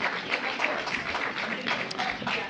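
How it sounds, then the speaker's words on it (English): Applause from an audience, a steady patter of many hands clapping throughout, fairly close. "people like to clap over me now when I speak"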